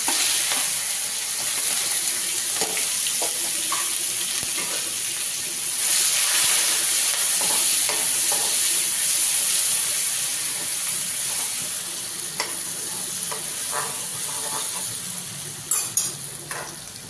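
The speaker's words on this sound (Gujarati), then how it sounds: "તેલ ગરમ થઈ ગયું છે. એમાં આપણે હિંગ નાખીશું, આદુ નાખીશું, મરચાં નાખીશું" Asafoetida, ginger and chillies sizzle in hot oil in a home kitchen, giving a steady, loud crackling hiss that carries on unbroken with occasional faint stirring.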